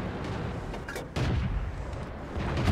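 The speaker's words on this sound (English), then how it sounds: "Artillery just shot him." Artillery fire in the World of Tanks video game booms loudly twice in quick succession over a dense, rumbling battle soundscape.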